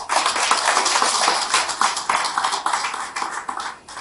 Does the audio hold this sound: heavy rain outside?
no